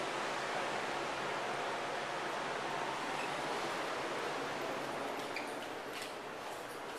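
Ocean surf at South Beach, Miami Beach, reaches a 38th-floor balcony as a faint, steady broadband wash, a continuous distant roar with no distinct breaking waves and no voices.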